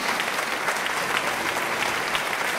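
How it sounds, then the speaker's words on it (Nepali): An audience claps together throughout at an award ceremony at a Nepali community fair in the UK, a dense, even wash of applause with no pauses. "सबैले ताली बजाइदिनुहोस्"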